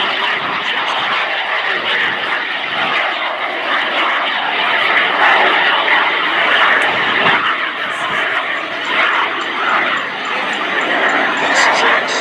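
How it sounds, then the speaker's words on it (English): A SubSonex JSX-2 experimental personal jet at an air show gives off a loud, continuous engine roar with a broad hiss, while an announcer talks over it. "this is an experimental personal jet. This is the SubSonex JSX-2"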